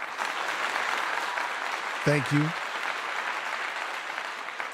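Steady applause rolls on throughout, moderately loud, with someone briefly speaking a few words in the middle.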